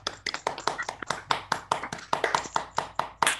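Scattered clapping from a few people on an online call, uneven overlapping claps running steadily for several seconds, fairly close with no talking.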